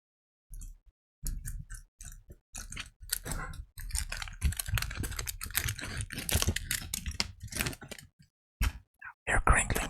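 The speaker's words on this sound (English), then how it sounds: "You're crinkling open the chocolate." Chocolate wrapper crinkling open in a series of sharp, close crackles and rustles, with quiet whispered talk in between.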